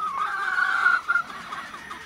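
A hen, mother of two roosters, gives a short run of clucks nearby, one drawn-out call followed by a couple of quicker ones, with no talking.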